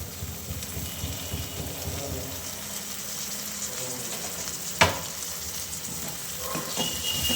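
Tomato fries in a pan for egg pepper roast, giving a close, continuous sizzle and hiss, with one sharp clatter midway and some soft rustling, unbroken by talk.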